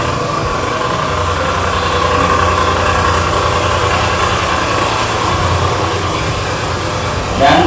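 A petrol engine powering a motorized sprayer with a 20–25 liter tank, two- or four-stroke, runs at a steady idle, a continuous, even drone with a low hum and faint vibration throughout.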